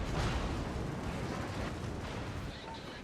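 The battleship Fuso fires its guns in the naval game World of Warships, a dense, continuous booming rumble with heavy low-end roar that stays loud for the whole stretch and eases slightly near the end.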